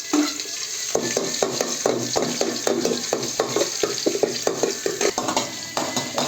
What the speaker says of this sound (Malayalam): ഇനി കടുക് പൊട്ടി ഇഞ്ചി വെളുത്തുള്ളിയും കൂടെ ഇടാം.